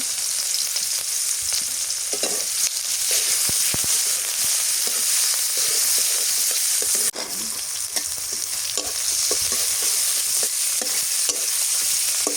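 Sliced onions fry in a small amount of oil, a loud continuous sizzle with crackles and occasional stirring scrapes close by.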